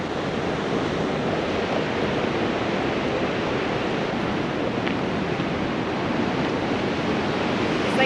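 Water rushes through a gorge beneath a walkway, a steady, dense roar of running water heard up close throughout, with no talk.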